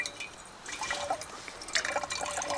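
Water trickles and splashes as it is collected from a lake during a fall canoe trip in Temagami, Ontario, with faint burbling and filling sounds, close and soft, with no talking.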